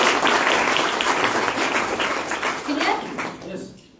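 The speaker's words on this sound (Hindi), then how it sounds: "ताली बजा दो" Seminar audience clapping during a business talk about toothpaste products: a loud burst of many hands that gradually thins and fades to quiet by the end, with some crowd voices mixed in.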